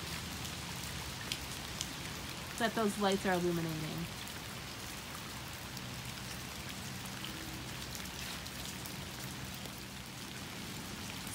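Steady outdoor rain hissing evenly throughout at night in a garden lit by landscape spotlights, with a person talking briefly over it partway through.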